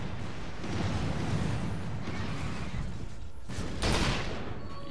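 A grenade goes off in the first-person shooter Resistance 3 amid ongoing gunfire and battle noise, a short sharp burst standing out near the end over a steady din of shooting; no speech.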